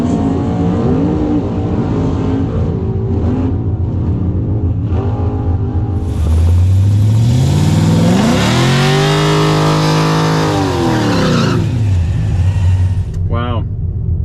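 Tesla Model S Plaid in drag strip mode launching on a quarter-mile drag strip, an electric whine rising sharply in pitch as it accelerates away, loud and close, with a combustion engine revving and people talking around it.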